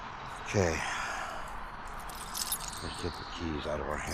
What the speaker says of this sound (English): let's get the keys out of our hand before we drop them